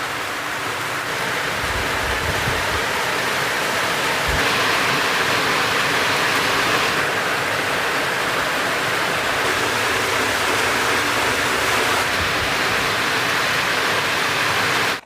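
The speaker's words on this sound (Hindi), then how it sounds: "पूरे के पूरे 50 मिनट बाद ये बारिश जो है अब जाके हल्की कम हुई है।" Heavy rain pours steadily for around fifty minutes during a sudden downpour, a dense, continuous broadband hiss that stays loud and even throughout, with occasional low thumps and no voices.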